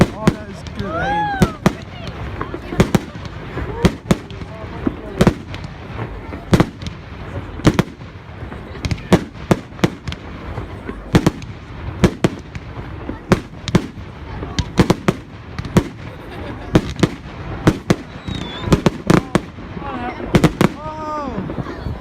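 Fireworks bursting across a pond at a family bonfire gathering, a long run of sharp, loud cracks and booms in irregular rapid succession, some crackling, while people talk and cheer in between.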